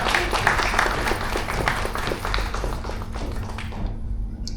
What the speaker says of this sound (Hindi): स्वाति जी के लिए एक बार जोरदार तालियां हो जाए।